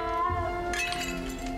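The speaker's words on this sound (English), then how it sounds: "Oops, just broke something." Glass shatters with bright clinking debris in the video game Hogwarts Legacy, a single crash over a steady game background followed by scattered tinkling.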